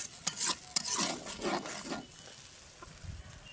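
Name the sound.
ground spice paste being sautéed and stirred in pan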